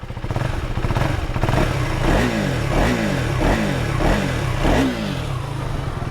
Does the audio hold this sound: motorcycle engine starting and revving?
yes